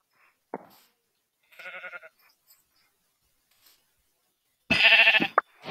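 Sheep bleat in a video game, two short nasal bleats separated by quiet gaps, the second louder and fuller, with a faint click or two between them.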